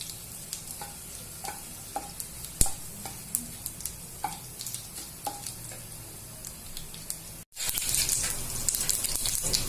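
Chopped garlic and cumin seeds sautéing in a pan for a village-style Maharashtrian zunka, a steady soft sizzle broken by scattered clicks of a stirring spoon, swelling to a brighter, louder crackle near the end.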